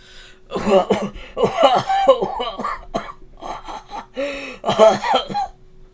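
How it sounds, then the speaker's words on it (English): Several harsh, wet coughs come in fits, close by, with throat clearing and wheezy breaths between them. "How long have you had that cough?"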